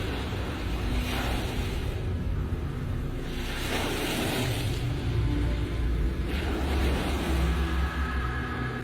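Open ocean water churns around a ship, with rolling waves surging and breaking in loud recurring washes over a continuous low rumble and buffeting wind.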